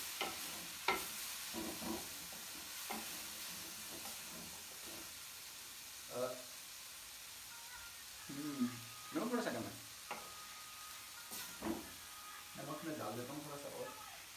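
Daal being stirred in a pot: soft, intermittent scraping and knocks of a spoon with a faint hiss, quiet and close, with a voice talking in between.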